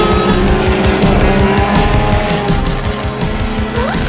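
Cartoon cars start a race with loud, continuous revving engines and squealing tires, several vehicles roaring together close up, with no talking.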